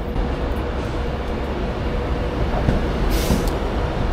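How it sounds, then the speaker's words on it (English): An 11-coach Avanti West Coast Pendolino, unit 390-107, pulling into a station platform: a steady, loud rumble of rolling wheels and traction noise runs throughout, with a brief high hiss near the end. "an 11 coach Pendolino service. Oh, looking quite smart as it pulled onto platform."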